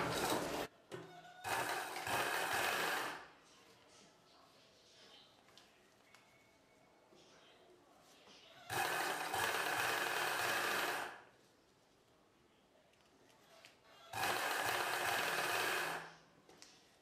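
A sewing machine stitches a folded fabric piece on a dress front neck, running in three loud whirring bursts of a few seconds each, separated by quiet pauses with faint handling sounds.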